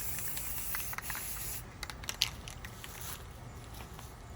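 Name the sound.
spray painting a rifle with camouflage paint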